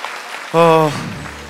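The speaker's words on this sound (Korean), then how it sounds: "우리 저 세 분께 좀 다시 한번 큰 박수를 부탁드립니다" A Seoul talk-show audience gives a round of applause for three panelists. The clapping sounds as a continuous wash of noise, briefly overlapped by a short vocal sound in the middle.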